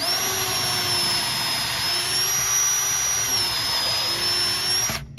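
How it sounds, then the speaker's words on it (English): Power drill boring pilot holes into rough sawn oak while framing a chicken coop wall: a close, loud, steady motor whine held for about five seconds before cutting off. "I'm actually pre-drilling the holes for where the screws or nails go"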